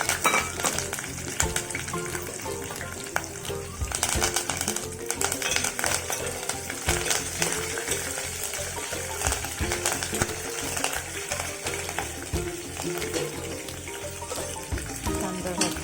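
Green chillies and curry leaves hit hot oil for a cluster-bean palya, giving a steady, dense crackling sizzle that continues close and even throughout without talk.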